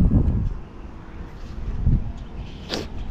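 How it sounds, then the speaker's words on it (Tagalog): Wind gusts buffet the microphone in low rumbling bursts beside a guava tree on a small farm, steady and close, with no talking. "Kapresko dito ah, hangin."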